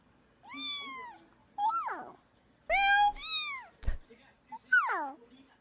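Two or more cats trade meows back and forth, a string of about five distinct rising and falling calls, close and clear, with a brief sharp click midway.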